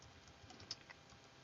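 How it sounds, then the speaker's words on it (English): Computer keyboard typing, a soft steady patter of keystrokes with a couple of sharper clicks, close and alone without talk. "I'm typing and getting a little crazy."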